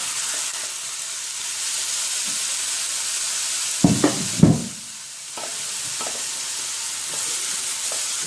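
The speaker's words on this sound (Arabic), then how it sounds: "اشوحها مشوحه كده البصله بالفلفل" Onion and pepper sautéing in a little oil in a pan, a steady soft sizzle running throughout, interrupted around the middle by a few louder stirring clanks and a brief dip before the frying hiss resumes.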